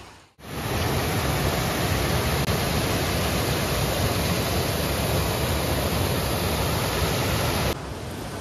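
Asan River flowing beside the Tapkeshwar temple in Dehradun, a steady, loud rush of water filling the scene continuously without pause before cutting off near the end.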